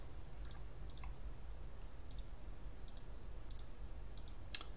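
Calculator keys being pressed while a division problem is entered, a series of about seven short, crisp clicks spaced unevenly over steady low background hum, with no talking.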